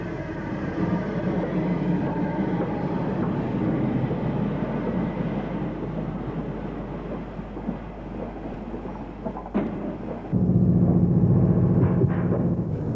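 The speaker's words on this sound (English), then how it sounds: "This is 280 Class 8F number 48339 on a down freight, followed by another member of the same class" An LMS Class 8F 2-8-0 steam locomotive, number 48339, hauls a down freight train past, a continuous heavy rumble and clatter of wagons, with a louder, denser pass near the end.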